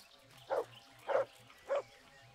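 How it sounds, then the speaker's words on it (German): Three evenly spaced dog barks, moderately close and loud, ring out in the medieval world of the game Kingdom Come: Deliverance over a quiet, low background hum. "Oh, mein Hund bellt schon wieder."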